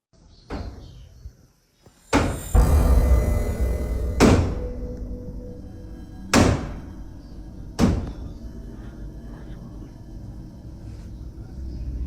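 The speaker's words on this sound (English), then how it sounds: "You can hear the knocking land 5 times before everything goes quiet." Five heavy knocks land one after another at uneven gaps, loud, dull and booming in a dark night-time setting, each followed by a short rumble before the space falls quiet.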